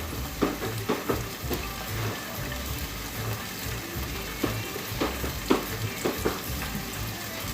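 Beans and shrimp with fresh garlic sautéing in a pan on a stove, giving a steady close sizzle broken by occasional stirring scrapes and clinks.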